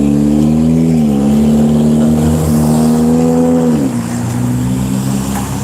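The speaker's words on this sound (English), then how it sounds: "Got a loud vehicle or something here." A loud vehicle engine idles and drones close by outdoors, steady and heavy, its pitch shifting slightly and then dropping near the end.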